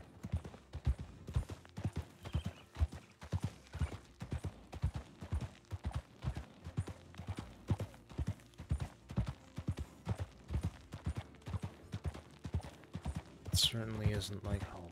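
Steady rhythmic clip-clop of a video game horse's hooves walking at an even pace, with a brief louder rustle and snort toward the end.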